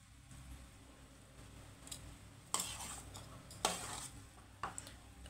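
Lemon juice and salt being mixed into cooked rice for lemon rice, a lunch-box dish: quiet, irregular scraping and stirring taps of a spoon against the pan or bowl, a few louder clinks standing out, with no talk.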